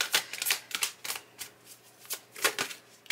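Tarot cards are shuffled and drawn in a rapid series of close, soft riffling bursts and papery flicks over about three seconds.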